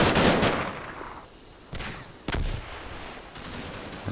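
Gunfire in the World War II strategy game Combat Mission Market Garden, bursts of distant machine-gun and rifle shots with sharp separate reports spread across the stretch, no voices over it.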